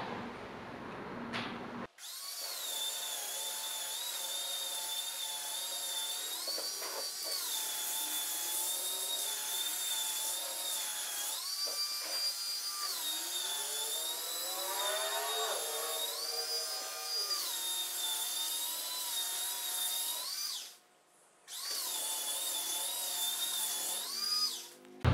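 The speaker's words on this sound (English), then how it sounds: "we're going to sand this up and then we're going to distress it" A belt sander grinds steadily across a wooden raised-panel top, a loud continuous whine with a brief dip near the end before it resumes, no talk.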